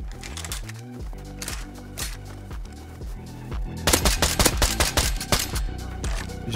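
Rapid automatic gunfire from the video game Rust crackles in dense, close bursts that grow louder in the second half, with no talk over it.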